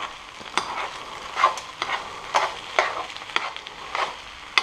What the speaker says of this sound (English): Stir in those eggs.